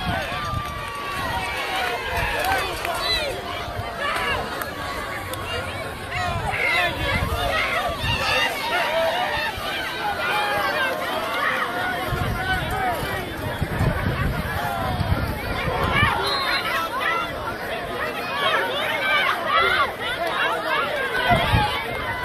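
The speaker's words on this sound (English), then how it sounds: "The Salem crowd getting hyped" A Salem high school football crowd cheers and chatters in the stands, a steady roaring babble of many voices with louder swells throughout.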